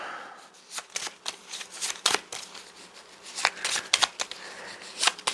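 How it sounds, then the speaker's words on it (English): Playing cards being shuffled close up, a series of quick riffling bursts and snaps with brief pauses between, no voices. "Shuffle up."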